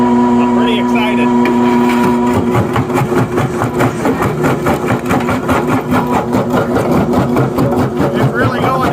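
A New Holland skid steer with a jaw crusher attachment works on a 12-inch concrete cinder block. Its loud, close diesel engine rumbles with a rhythmic, churning pulse as the jaws bite and grind.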